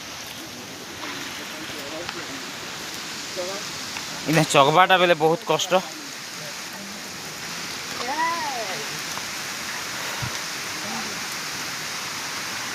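Water pours down a hillside waterfall as a constant broad rushing hiss in the background, while a person talks briefly over it partway through.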